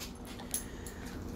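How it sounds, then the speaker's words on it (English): A pet dog whimpering softly close by while climbing on its owner indoors, a brief faint whine with a small yip-like peak. "Got one of my dogs all over me."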